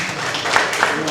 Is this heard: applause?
yes